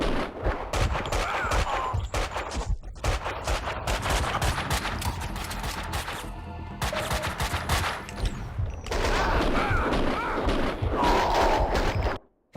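Sustained, dense gunfire from the Max Payne video game: loud rapid-fire volleys with sharp repeated shots filling the clip, a brief lull midway, then another heavy barrage before cutting off.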